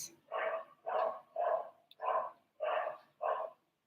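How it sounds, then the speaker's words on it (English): A dog barks six times in a steady rhythm, each bark full and fairly close, with short gaps of silence between them and no talking. "Oh, there's a dog."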